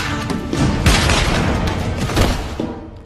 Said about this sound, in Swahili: Risasi kama zote